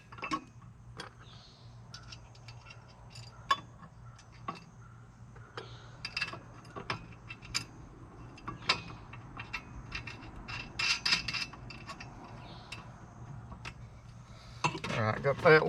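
Metal parts of a Pittsburg manual tire changer clink and tick as a leg is bolted on, with scattered light taps and a short rattling ratchet-like burst, close and fairly quiet over a steady low hum.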